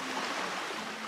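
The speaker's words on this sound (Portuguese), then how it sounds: "Parece o som do mar." Soft rushing hiss of the sea as heard inside a seashell in a cartoon, a faint, even washing roar with no voices.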